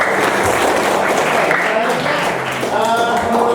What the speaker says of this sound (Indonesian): Oke, tepuk tangan buat.